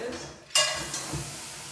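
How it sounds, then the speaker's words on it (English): Handful of ice hits a preheated pan inside a hot oven for bread baking, giving a sudden loud hiss and crackling sizzle that then settles into a steady, softer simmering hiss with faint clinks. "It's in, it's sizzling, we close the door."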